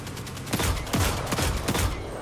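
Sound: gunfire in video game Destiny 2

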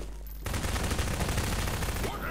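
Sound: gunfire in the video game Garry's Mod Prop Hunt

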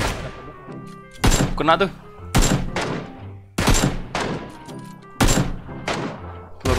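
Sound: gunfire in the video game PUBG

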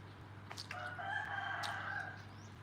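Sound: neighbour's chickens, rooster crowing outside

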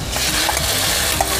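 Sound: cooking ingredients in pan until fragrant

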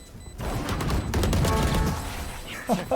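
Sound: gunfire in a Counter-Strike video game

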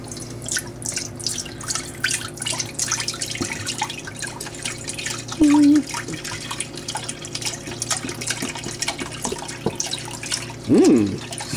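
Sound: pouring vegetable stock into turkey brine

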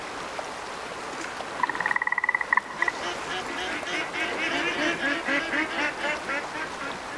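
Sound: duck quacking in video game Way of the Hunter

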